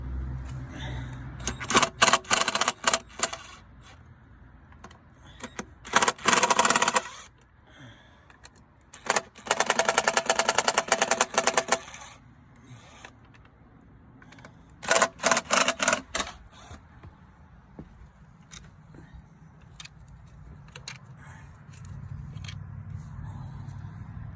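A tool with a star bit spins out the fuel rail bolts on a 2015 Jeep Wrangler, giving several loud ratcheting, whirring bursts of a second or two separated by quieter pauses.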